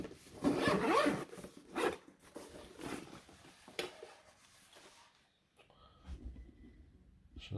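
A zipper running around the pack of an MSR Alpine Deluxe cooking kit is drawn open in several short rasping pulls, close and fairly quiet, tapering off into softer handling noises.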